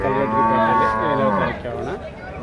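Cow at the Kalghatgi cattle market lets out one long, close, loud moo that rises and wavers before trailing off.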